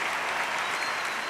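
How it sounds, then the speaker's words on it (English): A brief burst of applause from a small group at a roundtable show, dense clapping of several hands, close and uniform, with no pause. "Another round of applause for Don"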